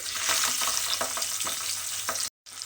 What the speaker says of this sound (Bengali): এই মাছটাকেও কিন্তু উল্টিয়ে পাল্টিয়ে একটু ভেজে নিতে হবে